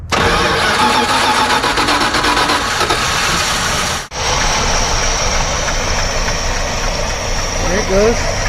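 An abandoned 1978 Dodge Ramcharger, unused for 17 years and fed fuel through its carburetor bowl, cranks and catches, cuts out briefly, then restarts into a loud, rough, steady idle close by.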